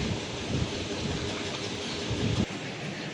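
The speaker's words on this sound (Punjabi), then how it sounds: "ਮੀਂਹ ਪੈ ਰਿਹਾ ਆ ਹਜੇ ਤਾਂ ਹੌਲੀ ਹੌਲੀ ਆ" A dense, steady hiss of falling rain fills the short stretch, fairly even with a slight dip near the end.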